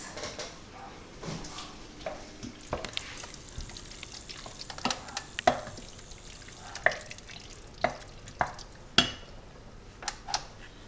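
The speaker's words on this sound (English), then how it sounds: "Give that a mix." Tomato sauce for a veggie lasagne stirred in a pan, a run of scraping, clacking utensil knocks at an uneven rhythm over a soft, steady sizzle, close and alone with no talking.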